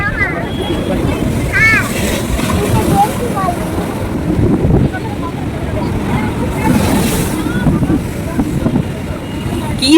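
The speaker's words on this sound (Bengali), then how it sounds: "কোন দিকে ঢেউ দেখাবো বলো তো বন্ধুরা" Sea waves wash in under heavy wind buffeting the microphone, with voices talking nearby over the rolling surf.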